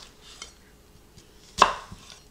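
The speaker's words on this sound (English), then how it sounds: "I'm going to drag my knife through 3/4 of the way through the onion" Kitchen knife cutting through an onion on a board, a few soft slicing scrapes followed by one sharp thud of the blade striking the board, close and isolated.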